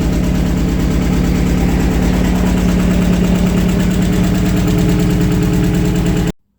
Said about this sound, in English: the engine runs and it actually idles by itself surprisingly well